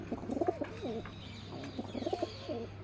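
A male Gorra pigeon coos close by in a few quick bursts of soft, throaty rolling notes with short pauses between them and no voices.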